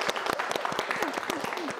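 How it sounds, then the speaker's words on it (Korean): Studio audience applause on a Korean current-affairs talk show: a dense, steady burst of many hands clapping at once, fairly close and sustained through the whole moment, with no voices over it. "우리 이분을 위해서 박수 한번 힘차게 보내줍시다"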